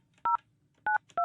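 Three crisp telephone keypad tones beep in an uneven rhythm, two close together after a longer gap, as a call is dialed from Delhi to Pakistan.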